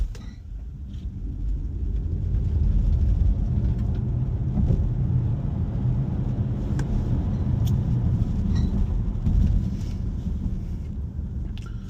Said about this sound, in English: Now that we're in sport mode, let's test the 0 to 60 time.